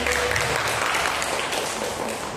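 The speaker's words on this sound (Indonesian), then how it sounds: "Boleh tepuk tangannya Ibu." Audience at an academic seminar clapping in a hall, a steady, moderately loud wash of many hands that holds evenly, then tapers slightly at the end.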